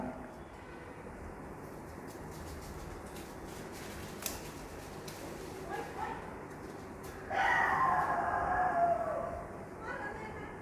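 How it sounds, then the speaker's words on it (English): A dog barks at a distance outdoors, a few short yips standing out faintly above steady background ambience, with a louder burst of barking near the end. "that bark of the dog, barking of the dog."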